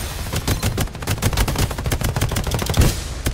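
Rapid bursts of automatic gunfire in the video game Farlight 84 crackle loudly and nearly continuously, shots overlapping in quick succession with no voices.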